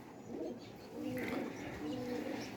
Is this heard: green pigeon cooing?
yes